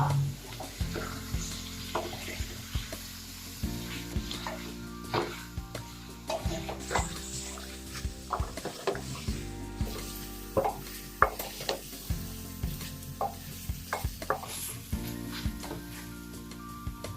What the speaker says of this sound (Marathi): हे उकडलेले मटण या मसाल्यामध्ये घाला आणि पाच मिनिटे छान परतून घ्या